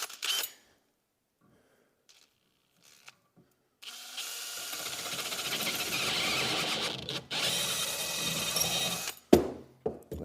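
An 8.3 millimeter drill boring out a hinge on a Volvo 142 door: after a quiet stretch, a steady close grinding whir runs for about five seconds, then stops abruptly.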